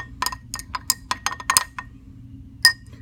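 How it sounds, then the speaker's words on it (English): A glass stirring rod gently stirs a blue copper solution in a beaker during a lab experiment, giving a series of light, irregular clinks against the glass, close and clear, with brief quiet gaps. "I take my stirring rod, and I'm going to gently stir this"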